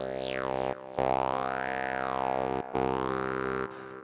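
A buzzy synthesizer tone through two parallel band-pass formant filters, shifting vowel-like resonances sweeping up and down, played in three sustained phrases separated by brief gaps.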